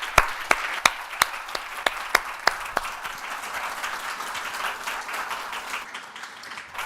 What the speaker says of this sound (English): But can we just give Sudeep a round of applause?